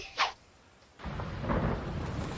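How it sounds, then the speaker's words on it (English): Rain starting again in a cartoon, a steady soft hiss of falling rain rising after a brief sharp sound and continuing evenly under no talk. "It's starting to rain again."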